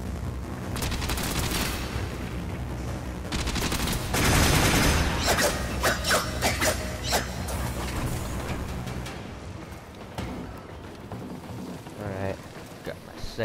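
Gunfire in the Warframe video game crackles in dense, rapid volleys and bursts, loud and close, with a voice speaking over the shooting.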